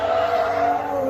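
Tires on a drift car squeal loudly on track at Ebisu Circuit, a sustained high screech with engine noise underneath, lasting about a second.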